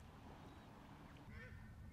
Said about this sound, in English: These paradise ducks, even though they're freaking out about Bruce, they're not going away